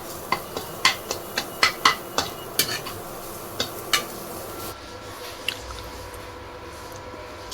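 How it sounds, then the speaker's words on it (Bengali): A spatula scrapes and taps in a pan of egg bhurji cooked with very little oil and starting to burn, giving a quick run of sharp clinks before quieter stirring. "আর এদিকে বানাচ্ছি ডিমের একটা ডিমের ভুজি"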